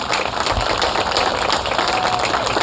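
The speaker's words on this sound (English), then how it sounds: "a big round of applause for them" Audience applause for panelists at a discussion event, a loud continuous roar of many hands clapping at an even level from start to finish.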